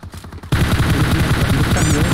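Loud bursts of rapid automatic gunfire from the video game PUBG, starting abruptly after a brief quieter moment and continuing densely, with a short whistling tone near the end.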